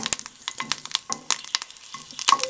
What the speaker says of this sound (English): I'll show you how they crisp up quite nicely when you fry them so just grab these and chuck them in here